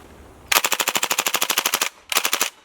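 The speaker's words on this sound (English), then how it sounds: "Thompson submachine gun." Full-auto bursts from an open-bolt airsoft Thompson submachine gun, a long rapid string of about twenty sharp close shots followed by a shorter burst, loud and without talk.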